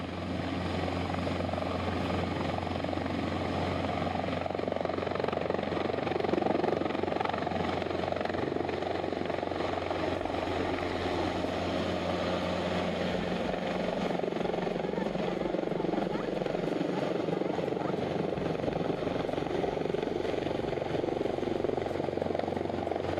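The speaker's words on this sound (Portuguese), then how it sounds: "observando enquanto os helicópteros" Military helicopters fly overhead with a steady, continuous rotor drone that stays loud and unbroken throughout, while a voice speaks at times over the engine noise.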